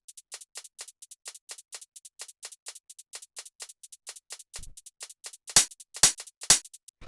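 Crisp hi-hats tick in a steady sixteenth-note groove in a deep minimal house beat. A soft low thump enters partway through, then brighter, louder open hits join toward the end.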